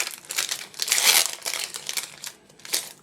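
A Pokémon booster pack from the EV10 Rivalités Destinées set is torn open, its foil wrapper crinkling and crackling in quick close bursts, the loudest about a second in, then fading.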